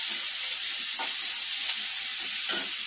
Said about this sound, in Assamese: এতিয়া অলপ লাৰি চাৰি লওঁ।